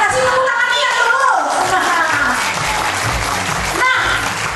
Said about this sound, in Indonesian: Kasih tepuk tangan ya dulu.